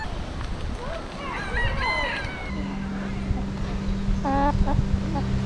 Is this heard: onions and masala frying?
no